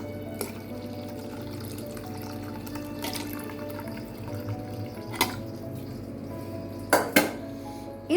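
Water left from cooking mutton is added to a pan for kurma, with a soft running pour under intermittent clinks and knocks of metal utensils and dishes in a kitchen.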